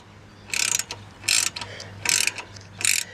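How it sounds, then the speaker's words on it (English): A 9/16 ratchet wrench tightens a bolt on a front bumper being fitted to a John Deere E110 lawn tractor, giving four evenly spaced bursts of rapid pawl clicking, close and crisp, over a low steady hum. "I'll tighten that up using a 9/16 ratchet wrench."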